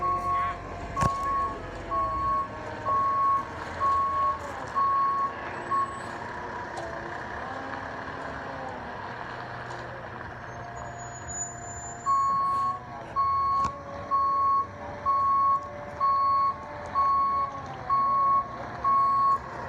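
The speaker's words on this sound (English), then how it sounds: "Conveyor truck today, boys. Just a little guy. Little guy, we'll get her in there." A small conveyor truck backs in at a concrete job site, its reversing alarm beeping in steady evenly spaced pulses that pause midway and then resume, with engine rumble and occasional voices nearby.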